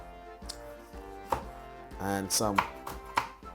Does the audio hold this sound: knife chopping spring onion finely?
yes